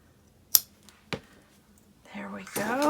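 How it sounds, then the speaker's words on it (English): Scissors snip through purple crochet yarn while finishing a small crocheted cat hat, giving two crisp, short cuts about half a second apart, followed by a voice starting to talk. "pull it tight through, and I'll cut that off"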